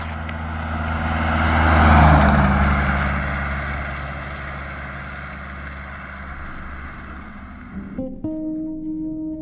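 A Chevy S10 truck with a VW diesel engine drives past, its engine drone growing louder, peaking, then fading away as it moves on. Brief clunks and tonal noise follow near the end.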